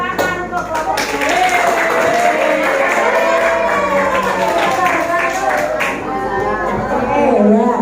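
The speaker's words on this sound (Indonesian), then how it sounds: "Tepuk tangan untuk kelompoknya." Classroom applause for a group of students who presented fruit names, a loud continuous burst of clapping with cheering voices and a whistle-like tone, close and filling the room.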